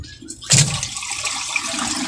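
Water from a washing machine tub being poured out during a laundry wash, a sudden splashing gush after a quiet start that then settles into a steady draining rush.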